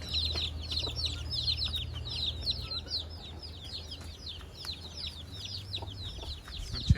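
Desi chickens on a small rooftop farm cheep and cluck continuously in a busy chorus over a steady low hum, with a brief louder knock near the end.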